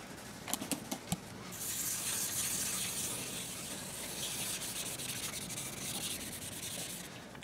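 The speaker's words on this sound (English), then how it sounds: "that was wet sanding to 2000 grit" Wet sanding a sprayed metal flake paint finish with 2000 grit paper, a steady close rubbing hiss that runs continuously after a few light knocks at the start.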